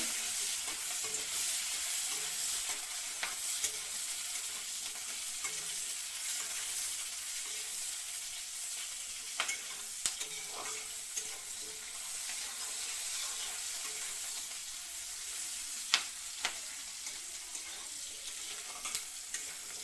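Chopped onion pieces fry lightly in a pan for a small fish curry. A soft, continuous sizzle runs throughout, with occasional stirring scrapes and clicks, and no voices.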